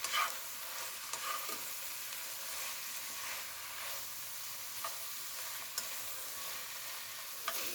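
Chopped green vegetables for a stir-fry sizzle steadily in a hot pan, with occasional scraping stirs, at a moderate, even level throughout with no talking.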